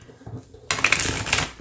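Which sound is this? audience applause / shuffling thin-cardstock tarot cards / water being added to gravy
shuffling thin-cardstock tarot cards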